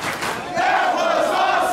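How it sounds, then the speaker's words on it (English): Wrestling arena crowd roaring and cheering for a tag team, a dense wall of massed voices that swells louder after a brief moment and holds steady with sustained shouting throughout. "the crowd loves the Ducklings and Coach Mikey"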